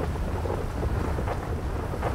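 Rainstorm weather in GTA 5's Los Santos: constant pouring rain with a low, grumbling thunder roll underneath, steady and enveloping, with no one talking.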